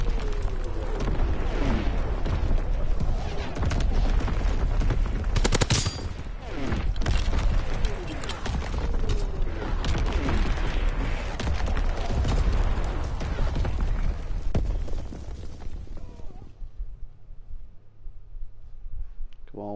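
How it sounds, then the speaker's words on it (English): Enemy artillery in a Call of Duty video game pounds down in a long, loud barrage of rumbling explosions and crackling fire, then cuts off abruptly near the end, leaving quiet. "Incoming enemy artillery"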